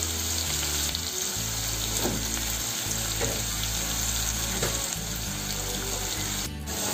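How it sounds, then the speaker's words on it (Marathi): Onion fries in hot oil for a Marathi suran (elephant yam) bhaji, a continuous close sizzle with faint spoon scrapes, steady throughout without any talking, ending with a brief sharp clink. "कांदा आपण छान तेलामध्ये लालसर होईपर्यंत परतून घ्यायचा आहे"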